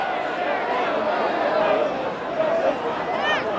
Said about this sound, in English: Crowd not happy, not surprisingly.